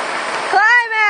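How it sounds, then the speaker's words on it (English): Heavy hurricane rain in South Carolina hisses steadily in a dense wash for a brief moment before a voice cuts in over it. "It's pouring."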